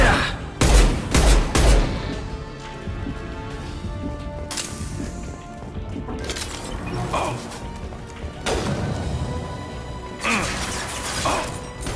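Rifle gunfire from the Mass Effect 2 game, heard as bursts of loud shots at the start and again around the middle and end. Crashes and impacts are mixed in over a steady combat background.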